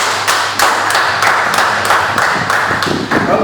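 A church congregation claps together in a loud, steady rhythmic beat, the sharp claps repeating at an even pace throughout.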